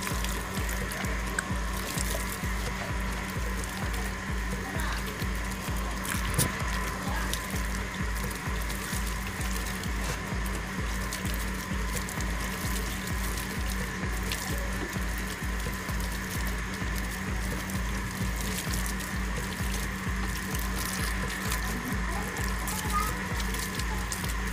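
Water trickles steadily onto the soil of a freshly potted plant at home, a continuous close pouring sound with a low hum beneath and no talking.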